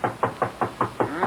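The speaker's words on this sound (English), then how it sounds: "Knock on the door for me, will you?" A rapid series of about seven sharp knocks on a door, used as a sound effect in a 1941 old-time radio mystery drama, evenly spaced and close, with no voices.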